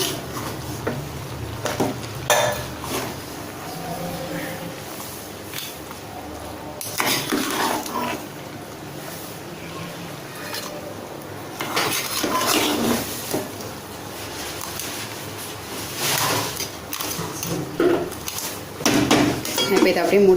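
Crab biryani being stirred in a cooking pot, with intermittent scraping and clinking of a utensil against the metal pot, moderately close, in bursts with quieter gaps between.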